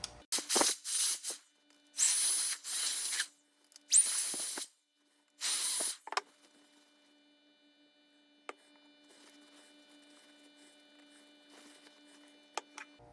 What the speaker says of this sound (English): I'm just going to use my battery air duster here to make sure that no degreaser is hiding in it.